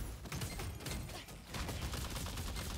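Rapid, continuous gunfire from a finger guns attack in Lost Ark, a dense stream of crackling shots running through the whole moment with a brief dip midway.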